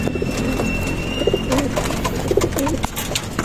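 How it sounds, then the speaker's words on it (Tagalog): A flock of young racing pigeons coos close by in a loft area, soft repeated throaty calls layered over a steady background hum and faint rustling, with no talking. "Ayan na sila mga kalapatids. Nagsirondahan na yung ating mga young bird."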